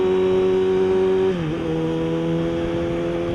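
A motorcycle engine with a Yoshimura M4 slip-on exhaust holds a loud, steady drone, then drops slightly in pitch midway and settles at a lower steady hum, close and continuous.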